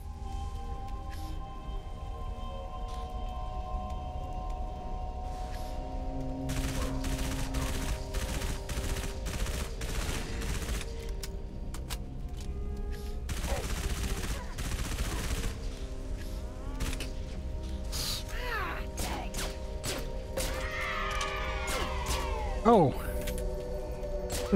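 Enemies fire at the player in Halo 3 ODST, with bursts of rapid gunfire and scattered shots over a steady background hum, and a person talks throughout.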